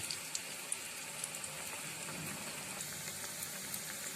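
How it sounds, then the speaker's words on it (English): Mini bread matar paneer samosas fry in hot oil over a low-medium flame, giving a steady, soft sizzle with scattered small pops and crackles throughout, with no talking. "So I'll be adding all my samosas and frying them till they become golden brown."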